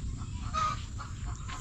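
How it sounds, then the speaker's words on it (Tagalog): A chicken clucks a few times, faint and somewhat distant, over steady low background noise on a backyard farm where hens are nesting and laying eggs. "Nag-ingay yung manok."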